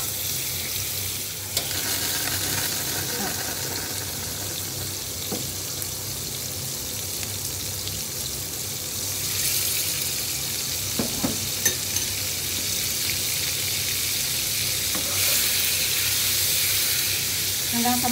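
Butter melts and sizzles in a pan as the base for a white sauce for Filipino-style cheesy baked macaroni, a steady close frying hiss with faint clinks and stirring throughout.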